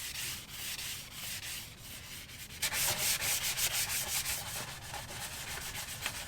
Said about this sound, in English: it is time to start sanding everything down and get it ready for paint